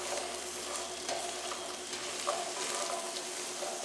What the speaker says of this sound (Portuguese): Refogando, mexendo sem parar, tá, meus amados?